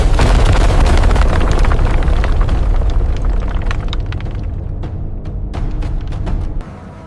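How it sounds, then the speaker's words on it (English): A massive wall of unstable marine sediment collapses into an excavation trench with a deep, roaring rumble. Heavy crashing debris fills the start, then the noise slowly thins into scattered cracks and thuds before cutting off near the end. "A massive wall of unstable marine sediment collapses into the trench"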